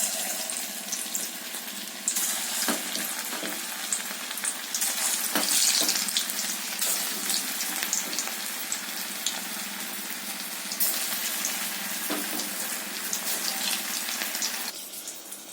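Mutton kola balls fry in hot oil, giving a steady, close, dense crackling sizzle that holds throughout with brief swells, alone without talk.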